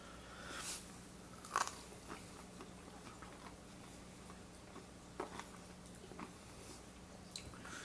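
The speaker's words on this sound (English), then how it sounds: "It's got a little bit of crunch to it." Air-fried oysters get bitten and chewed close up, with a few sharp crunches and soft crackly chewing spread over several seconds in an otherwise quiet setting.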